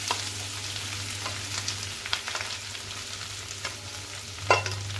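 Potatoes fry with spices in a non-stick pan on a low flame, a constant sizzle broken by several scraping stirs and a louder spoon clink near the end, with no talking.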